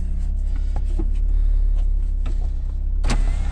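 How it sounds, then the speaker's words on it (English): Power windows humming down inside a 1992 Honda Accord with a leaking intake, a steady motor whine close by over a constant low engine idle rumble, with a few faint clicks and a brief louder burst near the end. "Roll the windows down so everybody can see us"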